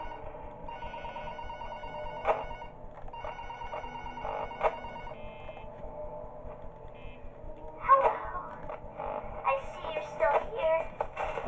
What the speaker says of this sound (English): Oh, and we get a phone call.